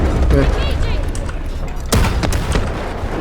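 Gunfire in the shooter game Delta Force, with bursts of shots and booms cracking out mid-distance over a busy battlefield din while a player talks.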